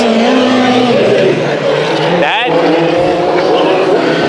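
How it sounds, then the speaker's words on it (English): Several USAC Honda Western Midget race cars crash together on lap three of a heat race at Bakersfield Speedway, a brief burst of tire squeal and impact noise cutting through steady loud engine drone, with a voice talking over the roar. "3 hard hits on lap number 3 of the heat races in the USAC Honda Western Midgets."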